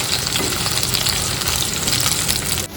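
A large sliced onion fries in ghee in a pan, giving a dense, continuous close sizzle and crackle that holds steady and cuts off abruptly at the end.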